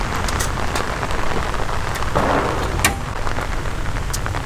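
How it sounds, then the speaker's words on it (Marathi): Steady, dense rain pattering on a surface, close and continuous, with a slightly heavier gust of drops around the middle. "इथं पाऊस चालू सगळं चालू"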